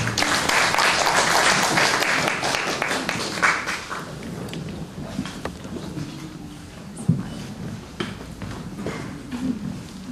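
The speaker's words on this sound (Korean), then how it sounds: "박수 부탁드리겠습니다." Audience applause at a literary anniversary award ceremony, a dense burst of clapping that fades over a few seconds into scattered claps, rustling and faint room noise.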